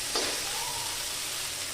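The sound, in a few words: mashing fried brinjal with a spatula in a pan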